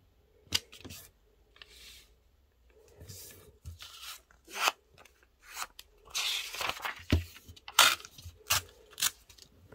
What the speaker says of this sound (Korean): 큰 종이 반 잘라서